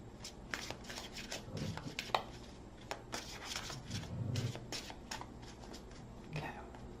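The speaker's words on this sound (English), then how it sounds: "Okay, 2 more shuffles." Tarot cards are shuffled in soft, quick riffling bursts close up, with faint breathy sounds in the background.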